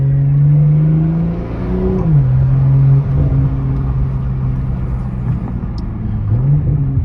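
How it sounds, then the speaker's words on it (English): A BMW M240i (G42) with a muffler delete: loud, raw engine rumble drops in pitch and blips back up as the car downshifts, the unmuffled exhaust growling close by. "And you hear a downshift."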